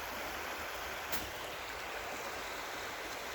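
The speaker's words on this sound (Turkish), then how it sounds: "Dere şırıltısı." A calmly flowing village stream babbles steadily, a soft continuous wash of water close by with no other sounds over it.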